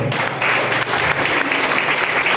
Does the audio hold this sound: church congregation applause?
yes